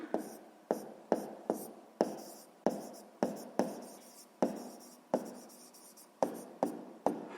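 A pen writes on paper in a run of short, sharp strokes with brief pauses between them, close and fairly quiet, as math notes are jotted down.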